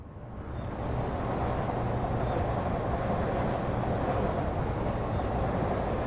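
A passing train in the video game Little Kitty Big City fades in over the first second, then holds as a steady low rumble with no talking.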